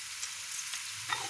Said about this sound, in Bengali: দিয়ে পনিরটা ভাজা হয়েই গেছে